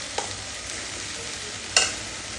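Spices fry in hot oil in a cooking pan, giving a steady close sizzle with a couple of brief metallic scrapes as a spoon stirs them, and no talking.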